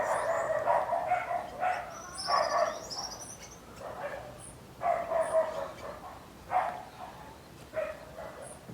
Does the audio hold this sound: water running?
no